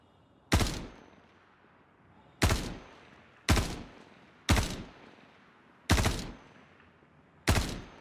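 Six loud, spaced gunshots from a P4 rifle in the Reclaimer Series video game, each a sharp blast with a short decaying tail, fired at irregular intervals with no talking.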